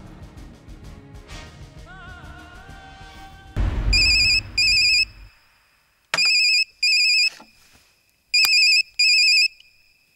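Phone ringtone of an incoming call in a Hindi action film scene: a repeating electronic ring in short double bursts, clear and loud, sounding three times after a stretch of background music and noise.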